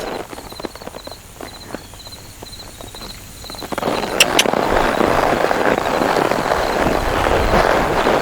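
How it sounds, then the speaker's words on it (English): Rhythmic hooves clip-clop at a walking pace, clear and close at first, then partly masked by a louder broadband rush of wind or traffic. "That's why I have a horse."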